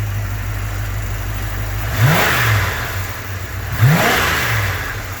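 A 1986 Jeep Grand Wagoneer engine, upgraded from the original 360, revs twice in quick succession from a steady idle. Each blip rises sharply and then settles back, close and fairly loud, with no voices over it.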